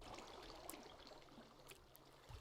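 Water blocks flowing in Minecraft give off a quiet, continuous trickling stream that runs unbroken, ending in a short louder thump.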